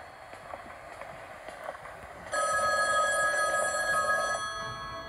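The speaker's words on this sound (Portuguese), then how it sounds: "O que esse telefone quer?" A telephone in a house rings with a sustained electronic trill that starts abruptly midway and continues loud and steady to the end, following a stretch of faint background noise.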